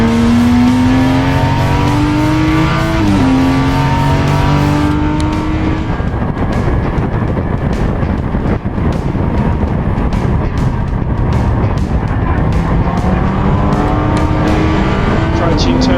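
A little Triumph Spitfire race car in the All Triumph Challenge drives hard on a race track, its engine revving loud and close and shifting pitch through gears, while a commentator talks over it.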